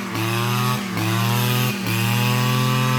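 A small two-stroke brush cutter engine, converted into an air blower, drones loudly and steadily up close, dipping briefly twice before returning to full buzz.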